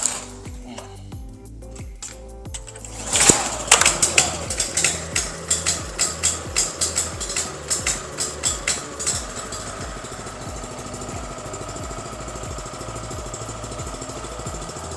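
A Cukusin 4-stroke 7.5 hp outboard motor runs with the choke out, starting with a rough sputter before catching into a loud, rapid rhythmic chugging that settles to a steady, close idle hum.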